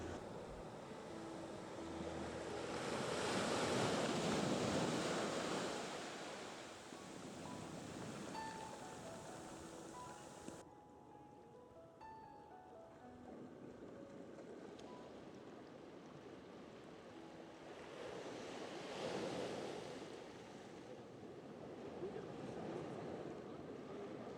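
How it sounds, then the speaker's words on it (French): Gentle sea surf washes on the shore at night, swelling and receding in slow waves, rising, fading to a quiet lull with faint tones, then building again; calm and distant. "Le ressac de la mer accompagne nos pas dans la nuit qui s'installe."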